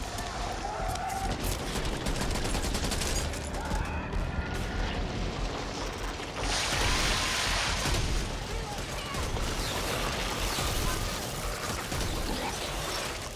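Rapid, repeated gunfire from the co-op zombie shooter game Back 4 Blood, loud and dense throughout with bursts of booming shots over game noise, while someone talks over it.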